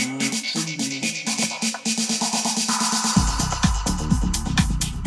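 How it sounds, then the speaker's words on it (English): Dense electronic dance track with a busy snare drum fill that hits in rapid repeated strikes and builds in intensity. Heavy bass kicks in about two-thirds through, and there is no talking. "We've got our drum fill here, the snare fills."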